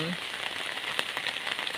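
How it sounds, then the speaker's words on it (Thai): Heavy rain falls steadily during a storm in a rural village, a dense continuous hiss with scattered louder drops and patters, close and even throughout. "ชมบรรยากาศฝนตก"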